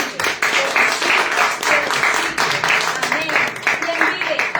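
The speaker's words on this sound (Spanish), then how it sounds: "Dele palmas al que vive" Worshippers in a church service clap together, a loud dense run of hand claps with shouting and talk mixed through it.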